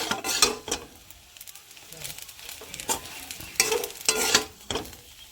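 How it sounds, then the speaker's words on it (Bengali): Potato chow mein with soy sauce is stirred in a sizzling pan, with repeated loud scraping bursts of the utensil against the metal over a low, steady fry. "সয়া সসটা দিয়ে নিয়েছি দিয়ে ভালো করে একটু নাড়া দিয়ে নেব"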